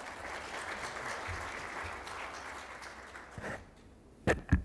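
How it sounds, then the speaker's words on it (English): Audience applause at an economic growth and innovation conference, a dense, steady clapping that fades after a few seconds, followed by a couple of brief louder knocks or claps near the end. "We'd all like to give David a round of applause."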